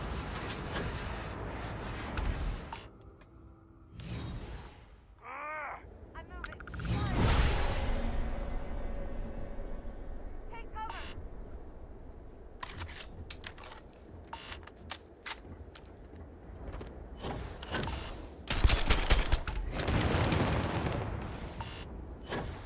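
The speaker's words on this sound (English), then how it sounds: "Which one of you guys is shooting at me?" Bursts of gunfire ring out in the sci-fi game Starfield, with sharp clustered shots and crackling volleys coming in uneven waves, some close and loud, others thinner, between quieter stretches.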